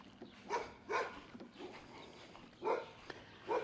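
Quiet, scattered barks from a livestock guardian puppy, roughly four or five separate woofs spaced unevenly over a few seconds, with soft background noise in the gaps.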